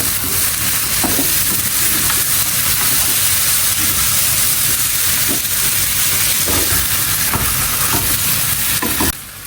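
Bone-in mutton hits hot spice masala in a pan for mutton pilaf, giving a loud, steady sizzle and frying hiss with faint stirring scrapes throughout, ending abruptly.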